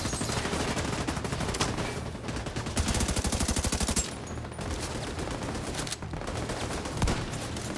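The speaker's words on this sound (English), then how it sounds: "These kind of machine guns like I have." Sustained automatic machine gun fire in the video game The Division 2, dense rapid bursts that run almost continuously, loud and close, with brief pauses between volleys and no talking.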